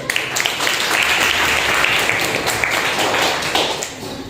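A congregation at a Sunday church service claps together, loud and continuous, with some sharp individual hand strikes standing out from the dense wash of clapping.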